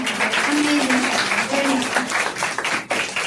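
A crowd at an institute anniversary event claps loudly and steadily for a performer, the applause holding for a few seconds with voices mixed in before tapering off.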